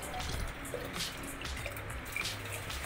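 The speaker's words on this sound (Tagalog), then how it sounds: "So po, kuha po tayo ng tubig. At lalagyan po natin isa-isa." Water poured from a container into tubs holding young water spinach (kangkong) plants, giving a steady close splashing and trickling with drips throughout, no talking.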